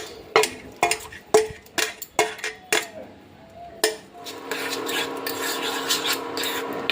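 A metal spatula scrapes and clatters repeatedly against a wok while stirring curdled milk chhana for Bengali sandesh, sharp rhythmic strokes giving way to a steady sizzling simmer with continued scraping.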